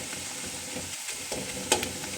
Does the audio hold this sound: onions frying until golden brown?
yes